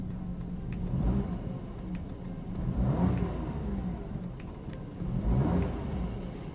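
A Toyota Raize CVT engine revs in repeated surges, rising and falling about every two seconds, with a steady mechanical whir underneath.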